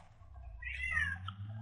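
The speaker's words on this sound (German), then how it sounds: "Ich habe noch nie so eine quatschfähige Katze gesehen" A cat meows in the video game Defiance, giving a single drawn-out, rising and falling meow heard close and clear over a low background hum.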